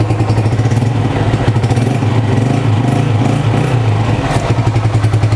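A Power PK 125 motorcycle, a 2020 model, its single engine running after starting with a steady, close, loud mechanical putter and some clatter, and no voices.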